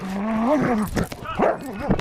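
A police dog barks and whimpers close by in a series of excited yips and woofs, with voices mixed in around it.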